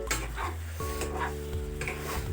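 Chicken 65 curry frying in a pan while being stirred, with a steady close sizzle and repeated scraping and clinking of a utensil against the pan every half second or so.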